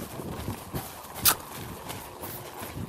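Hoofbeats of a horse in a training workout, loping off from an extended trot: soft, uneven clip-clop footfalls at a moderate distance, with one sharper hit near the middle.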